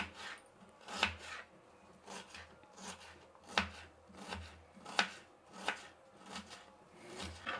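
A knife cuts through vegetables on a board in a Karnataka-style kitchen, giving about ten soft, even chopping taps spread over several seconds, close and fairly quiet, with no talking.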